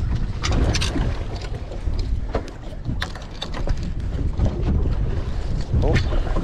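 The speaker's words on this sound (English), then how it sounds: "Oh, a little bit of wind." Wind buffets the microphone out on the water aboard a fishing boat, a loud continuous roar with gusty swells and knocks from the hull, lasting throughout without speech.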